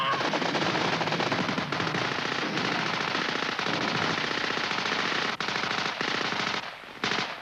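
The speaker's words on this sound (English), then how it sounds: "The cover group opening fire" A patrol's cover group opens fire with machine guns: sustained, loud automatic bursts rattle almost continuously, with brief gaps between volleys near the end.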